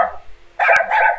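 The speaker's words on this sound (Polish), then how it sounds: "Kto jest dobrym pieskiem?" A dog in the video game Far Cry 6 gives a couple of loud, close barks, one quick yelp followed by a longer bark, with no talking.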